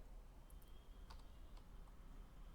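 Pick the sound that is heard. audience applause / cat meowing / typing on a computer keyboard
typing on a computer keyboard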